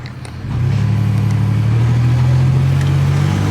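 A GMC Syclone's engine revs hard and holds a steady, loud drone while the brakes are held for a burnout that never starts, with a rising whine over the constant roar.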